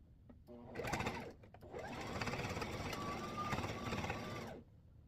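A sewing machine runs in steady continuous bursts as it stitches the pocket seams of a fabric egg-collecting apron, down, across and up, close and fairly loud, with a brief pause early on before a long even run.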